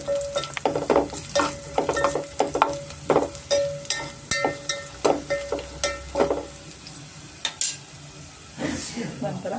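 Fennel, kasuri methi, cinnamon and cloves fry in a pan for mutton biryani, a bright sizzle broken by repeated stirring scrapes and clinks in an uneven rhythm, close and fairly loud, without speech.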